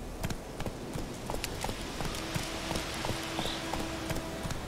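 Roach the horse gallops in The Witcher 3, a steady drumming of hoofbeats clip-clopping close by over a low ambient game backdrop, with no talk.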